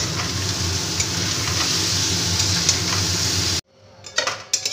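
Boiled chowmein noodles for egg chowmein are tossed with vegetables in a pan, giving a steady close clatter and scraping of utensil on metal with a faint sizzle, then an abrupt drop to quieter scattered clinks.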